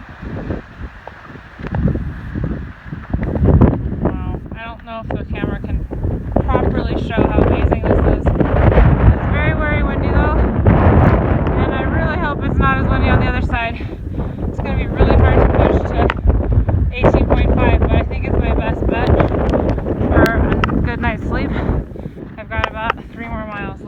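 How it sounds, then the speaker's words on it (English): Strong wind buffets the microphone on an exposed mountain stretch of the Pacific Crest Trail, a loud, continuous rushing roar with gusts, while a hiker speaks over it. "It is so windy up here."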